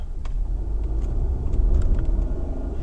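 Steady low road rumble and tyre noise inside a 2021 Ford Escape with 50,000 rental miles driving along a road, constant and close with faint small knocks over the drone.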